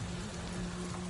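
Steady rain falls in Avatar: Frontiers of Pandora on PS5, a constant close hiss of drops with a low droning hum underneath and no talking.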